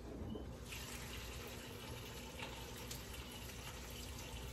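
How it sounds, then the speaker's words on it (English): Tap water running steadily into a kitchen bowl of ice for blanching garden vegetables, a continuous close gush with faint splashing, no talk. "I need to put some water in it."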